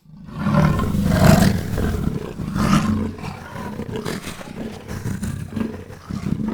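A deep, rumbling leopard roar repeats in a few heavy bursts, loud and close, with throaty growls trailing between them.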